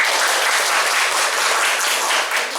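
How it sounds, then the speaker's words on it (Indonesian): Classroom applause for a student group, a loud, even, continuous wash of many hands clapping close by, steady throughout with no talking. "Tepuk tangan dulu untuk kelompok."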